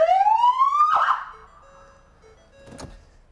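East Bridgewater police patrol car siren, a loud close wail rising steeply then cutting off, followed by a short electronic tone and a brief sharp burst.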